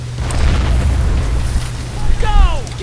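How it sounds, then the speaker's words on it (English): Mortar and artillery fire in the Men of War video game rumbles as deep, continuous booming, with distant blasts rolling over one another and a brief whistling sweep near the end. "There's a mortar, there's artillery, and there's also some other stuff in there."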